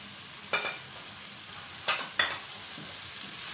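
Noodles being stirred together with sautéed vegetables in a pan for a chicken vegetable noodle dish; a low frying sizzle carries under three short, sharp utensil scrapes against the pan.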